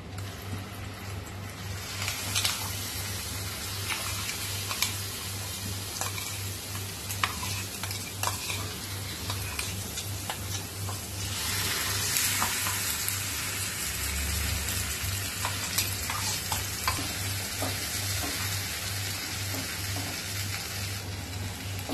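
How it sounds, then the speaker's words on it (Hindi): Spice masala paste with a pinch of hing frying in oil in a pan for a South Indian mixed vegetable kurma, a steady close sizzle with occasional stirring scrapes and no talking. "ये मसाले को हम 2 से 3 मिनट तक पकने देंगे।"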